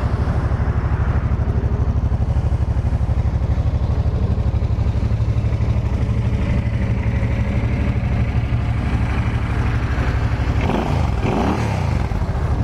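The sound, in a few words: 2005 Suzuki C50 Boulevard motorcycle idling, factory exhaust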